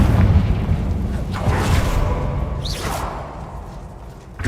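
A Confringo fire spell explodes in a video game: a loud boom and broadband burst opens the clip, followed by a rushing whoosh and scattered crackles that fade and then swell again at the end.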